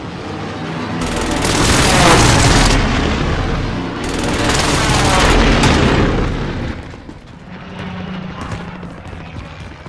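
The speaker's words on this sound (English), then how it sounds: "Friendly precision airstrike inbound." Heavy rolling booms and rumbling blasts from a precision airstrike in Call of Duty Warzone, two long loud waves of explosions followed by a quieter tail with distant engine drone.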